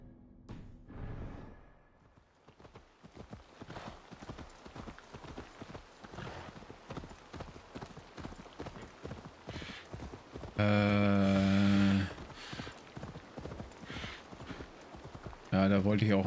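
A horse's hooves clip-clop at a steady gallop in Assassin's Creed Valhalla, a fast rhythmic beat running under continuous German commentary, with a louder burst of game sound partway through.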